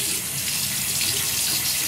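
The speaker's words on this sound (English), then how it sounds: "I'm gonna take this brush and we're gonna put some hot water on it" Hot water pours steadily from a bathroom tap onto a shaving brush, a continuous close hiss and splash of running water with no pauses and no voices.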